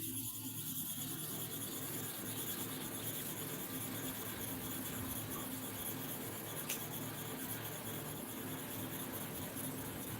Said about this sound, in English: We are sharpening here 50 times.